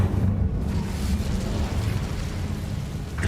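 An Incendio fire spell cast in Hogwarts Legacy roars as a dense, steady low rumble of flame, loud and sustained for about three seconds with no talk over it.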